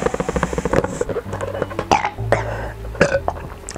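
A man burps after drinking beer, a loud close rattling belch that stutters and breaks into several croaky pulses over a few seconds.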